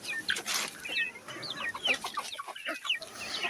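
A brooding hen clucks repeatedly in short, close bursts, with high chirps from chicks mixed in and no talking.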